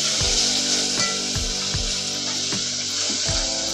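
Curry leaves, turmeric, asafoetida and crushed green chilli sizzle steadily in hot oil for Maharashtrian buttermilk kadhi, a continuous frying hiss with a few soft stirring knocks from the pan.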